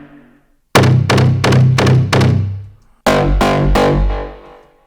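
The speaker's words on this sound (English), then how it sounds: "I add some stab, which are more like kind of a synth shot sound" Ableton Wavetable techno synth stab preset: a rapid run of five short, punchy distorted stabs, then three more after a brief gap, loud and dry with no voices.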